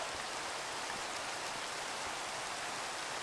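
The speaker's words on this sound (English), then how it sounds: "Man, this rain is annoying." Steady, dense hiss of falling rain in the Minecraft video game, an unbroken broadband wash with no distinct drops or pauses, evenly loud throughout and heard alone without any voices.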